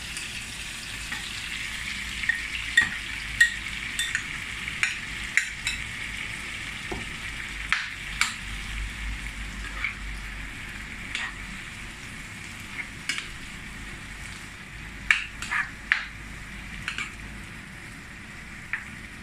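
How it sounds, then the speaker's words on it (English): Shrimp sizzle in a pan with yellow squash and Thai chili, a steady frying hiss broken by sharp crackles and scattered utensil clicks, close and moderately loud with no voices. "We're gonna add our shrimp."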